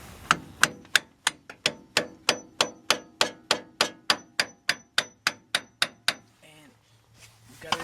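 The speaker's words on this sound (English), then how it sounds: "we could crack it open a little bit with the hammer" A hammer strikes a screwdriver about twenty times in a steady, even rhythm, each blow sharp and close, followed by a brief soft shuffle, during strut and coil replacement on a Chevrolet TrailBlazer.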